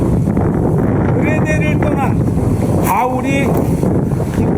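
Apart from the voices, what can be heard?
strong wind in a storm at sea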